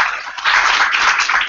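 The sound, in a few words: applause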